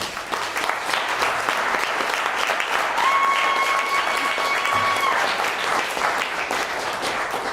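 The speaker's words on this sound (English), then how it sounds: "Another round of applause, please." An open mic audience applauds steadily for several seconds, a dense wash of clapping from a small room crowd with a brief whistle-like tone in the middle.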